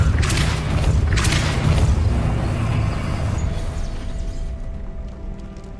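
A loud, booming Depulso spell effect from the Hogwarts Legacy video game, a heavy rumbling blast that slowly fades over several seconds, with no speech.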